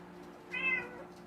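A single short meow from a big cat, close and clear against a quiet, faintly humming background.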